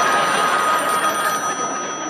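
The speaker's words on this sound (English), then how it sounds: "the phone would start ringing" A telephone in a sitcom scene rings loudly and steadily for about two seconds, a continuous electronic trill with no voices over it.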